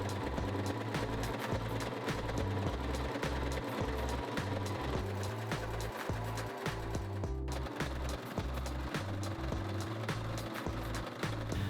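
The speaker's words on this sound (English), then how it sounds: "you're going to take it to the serger and you're going to sew all four sides" A serger overlocks the four edges of a fabric placemat, a loud, fast, steady mechanical chatter with a pulsing low thump that runs continuously with only a brief hitch.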